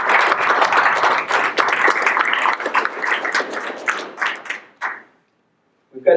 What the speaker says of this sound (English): Let's have a quick round of applause, please, for the sponsors.